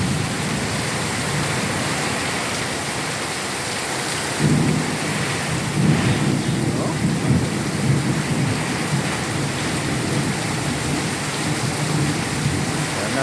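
Heavy rain pours steadily with strong wind, joined by low rolls of thunder that swell in the middle of the clip, a dense continuous roar with a brief voice heard once.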